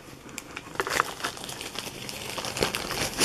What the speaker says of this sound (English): Should I unwrap it for you?